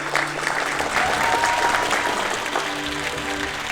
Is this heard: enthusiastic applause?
yes